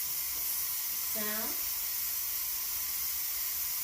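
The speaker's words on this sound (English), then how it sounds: "We have a continuous steam coming out." Steam hisses continuously from a pressure cooker as a steady broadband rush, with a short tonal whine partway through and a voice speaking briefly over it.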